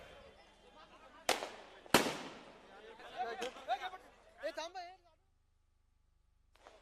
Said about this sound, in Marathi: जरा फटाके फटाके थांबवा